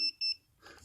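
A Pudibe pinpointer metal detector gives two short, bright electronic beeps in quick succession, close and clear, followed by a faint rustle of handling.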